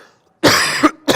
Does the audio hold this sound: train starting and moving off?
no